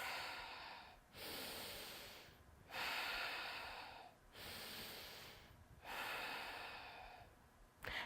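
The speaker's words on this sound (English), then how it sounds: "The chest remains still and the belly expands out on the inhale and collapses on the exhale." Slow, deep belly breaths, each long inhale and exhale drawn through the body in a steady rhythm, close and fairly quiet, four breath cycles with brief pauses between them and no talking.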